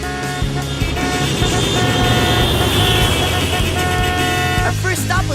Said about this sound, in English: everyone was honking at us